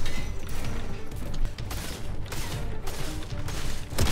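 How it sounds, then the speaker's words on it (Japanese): Gunfire in the video game Fortnite, dense bursts of shots and clattering impacts running continuously without pause, loud and busy, with no voices. "また銃声するな。"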